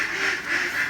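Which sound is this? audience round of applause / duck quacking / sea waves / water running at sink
duck quacking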